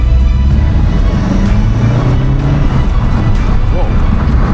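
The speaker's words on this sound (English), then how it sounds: "the only time we're ever going to do a pull in this car is right now" A Vauxhall Corsa VXR rated at 200 horsepower accelerates hard in second gear, its engine note rising steadily and loud from inside the car, with road and wind noise filling the background.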